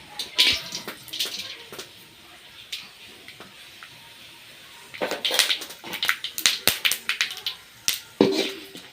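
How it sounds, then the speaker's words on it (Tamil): Cinnamon and whole spices frying in hot oil for a cauliflower gravy, crackling and popping in irregular close bursts that grow busier and louder toward the end. "பட்டை வகையெல்லாம் நல்லா பொரிஞ்சிடுச்சு"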